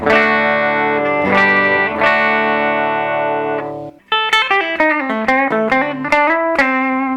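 Clean electric guitar played through a Fender Twin Reverb '65 reissue tube amp on a neutral clean setting, with sustained chords ringing out first and then a run of quicker single notes, warm and bright.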